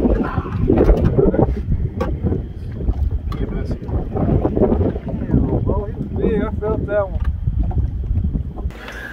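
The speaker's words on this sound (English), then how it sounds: "It's kind of windy, hard to hear" Wind gusts buffet a fishing boat on the water while fishing, a steady rushing blow under intermittent nearby talk and a few short clattering knocks.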